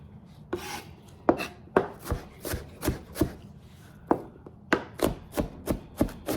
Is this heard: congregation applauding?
no